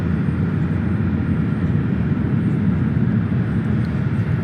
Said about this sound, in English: Next arrival is a JetBlue A220-300 coming in from West Palm Beach